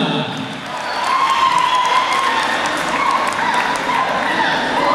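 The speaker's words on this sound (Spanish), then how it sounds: "Fuerte el aplauso" Audience applause at a huaso cueca dance competition event, a broad steady wash of clapping that swells after the first second and holds loud throughout, with crowd noise mixed in.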